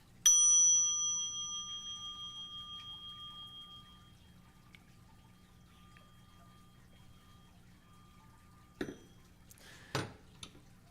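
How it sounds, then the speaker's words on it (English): A single struck mindfulness bell from the Vietnamese Zen tradition, rung during a Sunday service, rings out clearly and decays slowly over several seconds in a quiet room, followed by a couple of faint rustles. "He has a mindfulness bell. So every once in a while, in a talk, everything stops."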